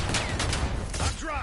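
Rapid video game gunfire in a squad shooter, dense continuous bursts filling the clip at steady loudness, with faint game voices and effects mixed in.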